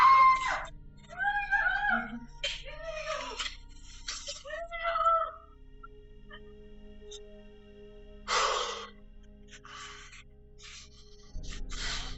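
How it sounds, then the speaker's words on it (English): Faint screams and wailing captured on a phone voice memo, recorded at a distance: several strained, moaning cries in bursts, with long hushed gaps and a thud-like noise between them. "a final faint scream can be heard a few seconds after he closes the balcony door"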